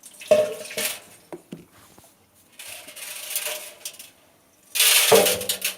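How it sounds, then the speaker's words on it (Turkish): A cleaning mixture is poured into a washing machine drum, with a few sharp clicks and knocks followed by splashy bursts of liquid, close and moderately loud, with quiet gaps between. "elde ettiğimiz karışımı makine kazanımızın içerisine"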